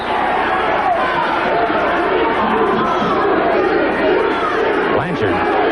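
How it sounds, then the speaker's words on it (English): A packed arena crowd at a 1984 pro wrestling TV title match, Tully Blanchard versus Carlos Colon, hooting, jeering and crying out in a steady, loud roar that fills the whole stretch. "You can hear the hoots and the cries of the crowd."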